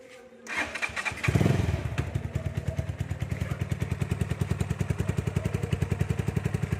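A Rusi Flash 150 carburetted motorcycle with a dB killer fitted in the exhaust starts up close by, catching after a brief crank, then settles into a fast, even putter with a steady rhythmic exhaust pulse.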